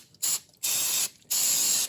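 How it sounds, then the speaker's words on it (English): Three bursts of silicone spray from an aerosol can onto the fuel filter hoses of a VW TDI, each a sharp close hiss lasting roughly half a second, separated by brief silences, no talking. "So first I would spray them with some silicone."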